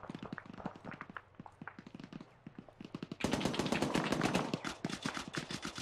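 Gunfire in the military video game ArmA 3, with rapid automatic bursts and scattered shots, lighter at first, then a dense, louder barrage of fire crowding in after the midpoint, sharp and close.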